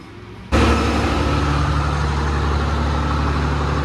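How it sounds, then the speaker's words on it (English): A big concrete truck's engine rumbles outside a new-build house site, kicking in abruptly after a quiet moment and then droning on loud and steady with a heavy low-end idle. "There's a big concrete truck out there"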